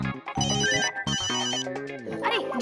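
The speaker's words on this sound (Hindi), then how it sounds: "अरे जॉनी का ही फोन आ रहा है।" Mobile phone ringtone from an incoming call in a Hindi comedy series, a loud melodic electronic tune playing in repeated bright phrases with no talk over it.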